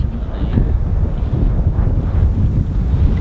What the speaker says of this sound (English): looks like the wind has swung more south and uh, it has backed off a little bit